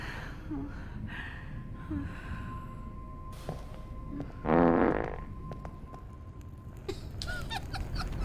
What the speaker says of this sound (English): You and the fart button.